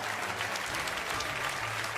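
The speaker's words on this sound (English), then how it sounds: "a huge round of applause for the 2018 F1 eSports Pro Series champion" Applause greets the 2018 F1 eSports Pro Series champion, a steady, even roar of clapping filling the whole moment with no break.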